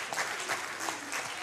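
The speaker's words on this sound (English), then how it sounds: "Come on, you can clap your hands." An audience claps together at a church worship service, giving steady rhythmic handclaps that sound close and fairly loud, with a few murmuring voices underneath.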